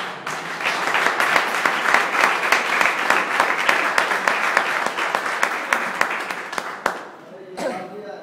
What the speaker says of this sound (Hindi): सब लोग सर के लिए ताली बजाया जा रहा है।